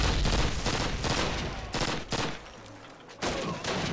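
Call of Duty gunfire at a train yard: rapid bursts of loud, close shots in several volleys with short gaps, sharp and heavy.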